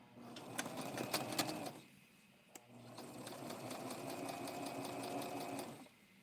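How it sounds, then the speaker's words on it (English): A sewing machine stitches a small Barbie doll dress in short bursts, humming with a rapid mechanical patter up close, then pausing briefly before running again steadily until it stops. "Just turn it this way and sew one more time."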